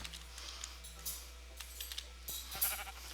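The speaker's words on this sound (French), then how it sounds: "J'ai entendu les moutons vouloir exploser." Sheep bleating in the video game Sheepwar, a few short bleats rising over a low steady hum and faint game noise, with no talk.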